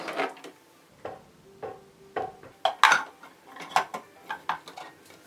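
Plastic and metal parts of a food processor clack and click together as a large S blade is fitted into the bowl, a series of sharp, separate knocks with quiet gaps between.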